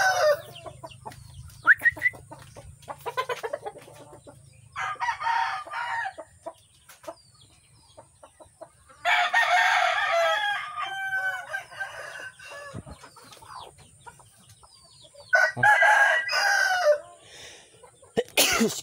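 Chickens cluck and call in scattered bursts close by, with rougher raspy outbursts, quiet stretches between them, and no talking.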